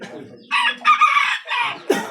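A fighting rooster crows loudly and close by at a cockfight, a drawn-out call broken into several bursts, followed by a brief squawk.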